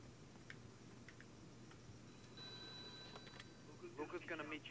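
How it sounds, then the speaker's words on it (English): A telephone rings downstairs in The Godfather: The Game, faint tonal ring bursts over steady background game ambience, followed by a voice starting to speak at the end. "answer the phone downstairs"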